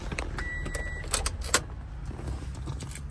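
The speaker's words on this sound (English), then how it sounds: "now key starts the car" A 2017 Toyota Camry starts up with a newly programmed key: short beeps and key clicks come first, then a brief starter burst settles into a low, steady idle close by.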